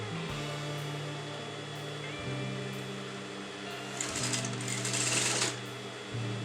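A sewing machine stitches blouse fabric onto canvas in several short, even runs of rapid mechanical chatter, separated by brief pauses, close and clear.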